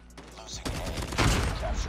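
Rapid gunfire from an SMG in Call of Duty Mobile, a dense fusillade of shots near and loud that thickens through the second half, with a voice talking over it.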